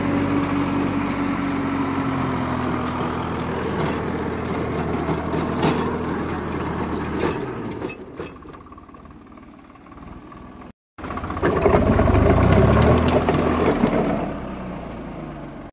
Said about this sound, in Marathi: रोटर मारायची यंत्रणा चालू आहे बघा